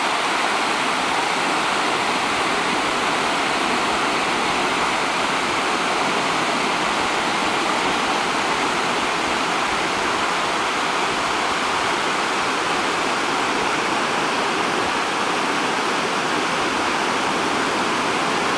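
A waterfall on a hiking trail near San Martín de los Andes, Argentina, makes a constant, full rushing roar that holds steady the whole time, close and loud, with no voices.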